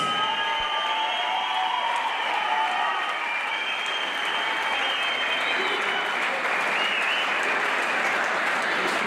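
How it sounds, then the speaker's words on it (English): A fight crowd applauds two kickboxing athletes after a five-round bout, a sustained loud wave of clapping with some cheering mixed in, continuous throughout. "a huge round of applause for these 2 athletes"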